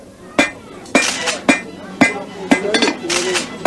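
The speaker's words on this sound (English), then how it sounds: "My grandfather used this hammer. It still works perfectly." An old hammer, once a grandfather's tool, strikes metal at a country fair. Seven sharp, ringing clinks land at a steady pace of about two per second, loud and close, with a metallic ring after each blow.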